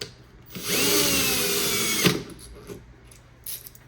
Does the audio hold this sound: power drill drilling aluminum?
yes